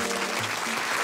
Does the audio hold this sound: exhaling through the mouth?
no